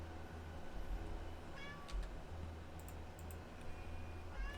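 A house cat meows softly several times, with thin, rising cries against a low steady hum and background noise in an indoor room.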